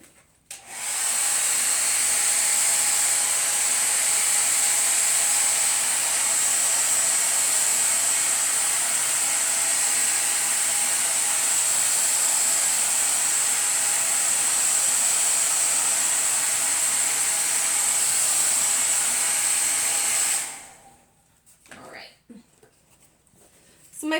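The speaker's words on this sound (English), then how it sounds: "I'm gonna go ahead and blow dry my picture really quickly" A hair dryer blows steadily on a wet painting made with candy, a loud continuous airy roar lasting about twenty seconds before cutting off abruptly into brief handling noises.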